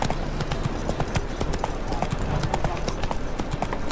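A horse ridden in a video game, its hooves clip-clopping in a fast, steady, close rhythm that fills the stretch on its own, with no voices over it.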